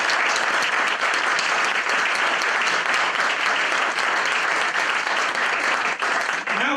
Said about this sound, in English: let's give Margaret a round of applause